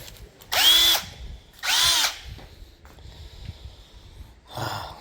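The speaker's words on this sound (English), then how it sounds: "This is just a drill." A cordless drill whines in two short bursts, then goes quiet except for faint rustling before a brief third spin at the end.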